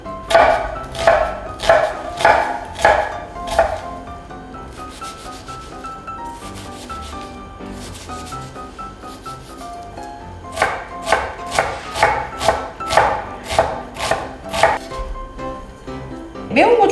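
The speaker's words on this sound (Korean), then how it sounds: "양파 반 개 정도? 다지기." A knife minces half an onion, giving quick, rhythmic chopping strikes in close bursts, then a quieter stretch of lighter taps before another rapid run of chops, all near and crisp.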